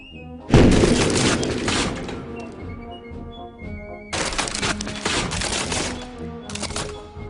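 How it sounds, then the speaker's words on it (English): Cannon blasts and explosions in the iPad game Demolicious HD: a loud booming burst with crackling debris, then a second run of impacts and crashes a few seconds later, alone with no talk. "We're firing cannons, folks."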